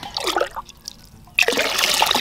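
Water mixed with cow manure and mushroom compost is poured from one container into another. A short trickle comes first, then after a pause a louder, steady splashing pour runs close to the microphone.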